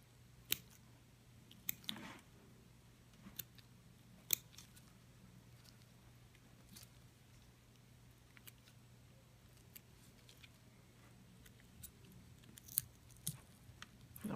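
Scissors cutting during a pig dissection, giving sparse quiet snips and wet clicks scattered over a faint steady hum, close and alone without talk.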